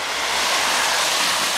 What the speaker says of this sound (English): How freaky big waves.